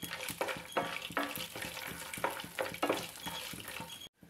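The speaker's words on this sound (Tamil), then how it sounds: "முழுக்க முந்திரி பருப்பை இதை வறுத்து எடுத்துக்கிடலாம்." About thirty cashew nuts roast in a pan for pumpkin halwa, stirred with a spoon in repeated scraping, rattling strokes over a soft sizzle, close and without talk, cutting off abruptly at the end.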